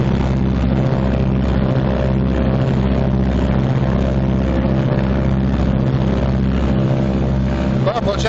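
Twin radial engines of a 1944 Martin B-26 Marauder bomber run up together to about 1,800 RPM, a loud, steady droning roar with a pulsing low throb that fills the whole stretch with no pauses.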